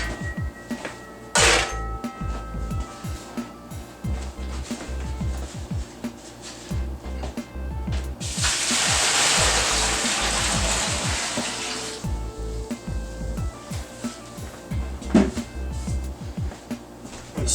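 Hot strike water at 170 degrees pours into grain in a mash tun for a Belgian Tripel, a loud broad gush lasting about four seconds amid clunks and handling noises.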